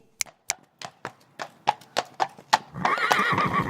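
A horse is led in, hooves clip-clopping in an even rhythm on a hard surface before it breaks into a loud, close neigh.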